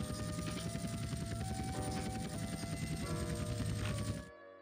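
A helicopter in the video game GTA San Andreas gives a steady, loud rotor and engine drone that fills the whole stretch, then cuts off abruptly near the end.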